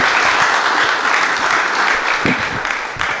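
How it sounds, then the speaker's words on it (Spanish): A brief, loud burst of full audience applause at a literary talk, dense and close, holding steady for about three seconds. "El aplauso es para Juan José Saer."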